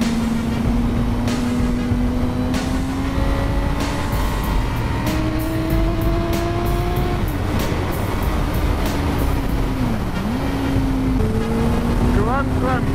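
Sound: Suzuki motorcycle engine revving on a race track

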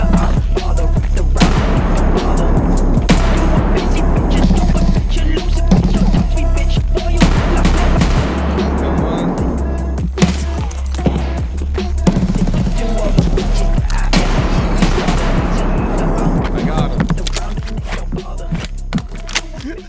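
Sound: gunfire from a gun in a video game

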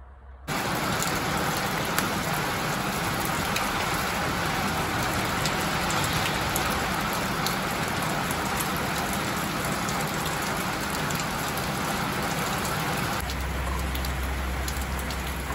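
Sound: rain falling

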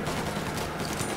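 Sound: gunfire in Mafia Definitive Edition video game

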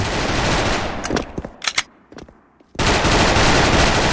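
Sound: P90 gunfire in video game Special Force

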